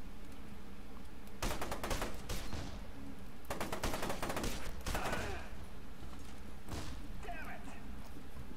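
Gunfire from the video game F.E.A.R. 2, loud bursts of automatic shots in several clusters with short single shots between them, and a player talking over part of it.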